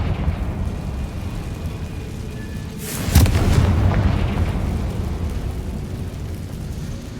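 A Confringo blasting spell in Hogwarts Legacy goes off as a sudden loud boom about halfway through, followed by a rumbling tail that fades over several seconds against steady game ambience.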